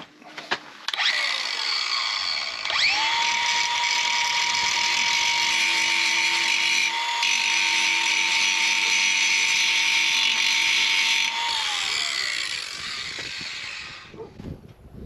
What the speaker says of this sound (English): probably just a grinding wheel on it, and I'll just cut around here a little bit just to kind of grind around here